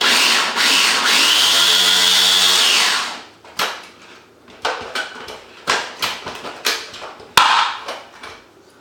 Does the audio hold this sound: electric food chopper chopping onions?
yes